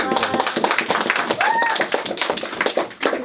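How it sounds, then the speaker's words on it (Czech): Children clapping together as a group, dense and fairly close, with a brief tonal squeak partway through and voices mixed in. "Zatleskáme."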